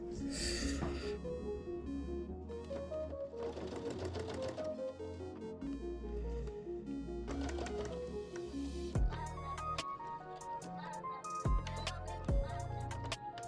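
A home sewing machine stitches fabric for a kitchen nook cushion in a steady, close whirring run with rhythmic needle clatter. Several sharp clicks and thumps come near the end as it stops and restarts.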